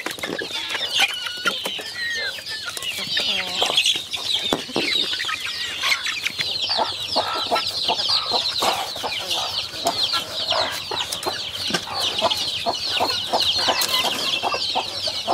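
A flock of farm chickens and chicks clucks and peeps near and far while pecking at split melon, with a rooster crowing briefly; soft chatter and pecking continue throughout.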